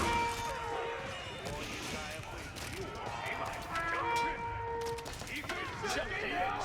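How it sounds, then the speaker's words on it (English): Crossbowmen volleying in an Age of Empires 4 battle, with a dense, continuous patter of bolts firing and impacting amid clashing combat noise and tonal game effects, loud and busy throughout, under a commentator talking. "Crossbow firing away."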